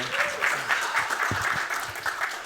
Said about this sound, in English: Nice hand clap for education and XR.